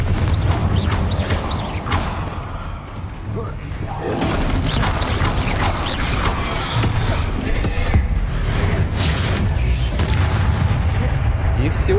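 Loud, dense magical blasts from the Confringo fire spell in Hogwarts Legacy, booming and crashing continuously over heavy game background noise, with a voice briefly speaking.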